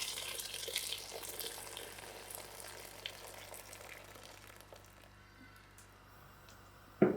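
Boiling water poured from a kettle into a pot of samp makes a steady hissing, splashing stream that slowly fades, ending in a sharp clunk.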